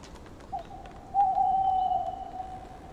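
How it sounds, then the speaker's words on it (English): Owl calling at night near Gibraltar, one soft short note followed by a longer drawn-out hoot, fairly close and clear against a quiet background. "Owl sounds when I was living near Gibraltar."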